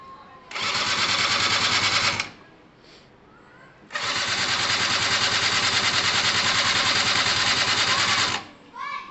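Gilera DNA 125 scooter engine idling after being turned over, a steady buzzing two-stroke putter that cuts out briefly, then restarts and runs evenly at close range before dropping off again.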